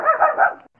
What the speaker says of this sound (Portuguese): Meu cachorro até comemorou.